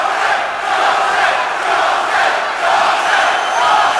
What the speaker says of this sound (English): The crowd chanting his name, Joslin.